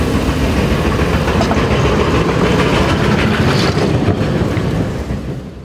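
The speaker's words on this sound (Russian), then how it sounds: "Еще одни борцы с непогодой работают на этом снегоочистительном трамвае." Snow-clearing tram rolling along snowy tram tracks, a steady loud rumble with rhythmic rail clatter throughout, easing slightly at the very end.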